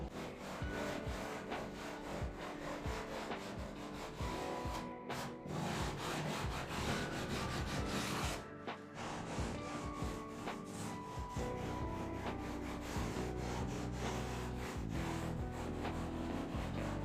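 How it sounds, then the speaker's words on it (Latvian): Ordinary sandpaper rubs over a Penoplex foam bathtub in continuous back-and-forth strokes, a steady scratchy scraping with a couple of brief pauses, fairly quiet and close. "Sīkas darba nepilnības, kas izveidojušās ar izdrukāto būvniecības nazi, var izlīdzināt ar parastu smilšpapīru."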